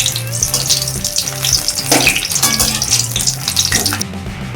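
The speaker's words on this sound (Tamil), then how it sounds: "எண்ணெய் நல்லா காஞ்சதும் கத்திரிக்காயை போட்டுக்கலாம்" Pieces of brinjal sizzle and crackle in hot oil in a pan, a dense steady frying hiss with occasional stirring scrapes, close and loud, with no talking.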